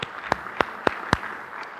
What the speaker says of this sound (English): So a round of applause for them for all their efforts.